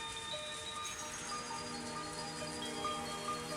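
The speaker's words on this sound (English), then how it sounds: "the cold air and the sound of rain didn't change a bit" Steady rain in a Higurashi visual novel scene, a soft continuous patter heard faintly and evenly across a few seconds, with faint ringing tonal layers beneath it and no voices.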